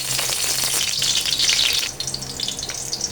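Ginger and aromatics sauté in a hot pan for mackerel sinigang, a loud, dense sizzle with a stirring scrape, close by and without any talk.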